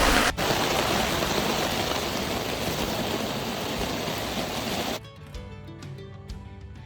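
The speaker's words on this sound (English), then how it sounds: "It's pouring." Heavy rain pours down during a storm at Long Island Lake in the Boundary Waters, a dense, loud, steady hiss that cuts off abruptly near the end, leaving faint patter.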